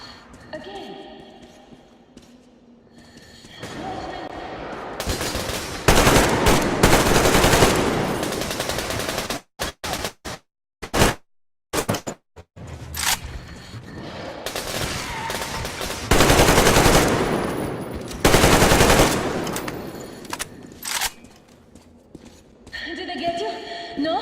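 Gunfire in the Metro Exodus video game: loud bursts of shots with sharp broadband cracks in clusters, mixed with rumbling noise, near and harsh, with quieter stretches of game ambience between.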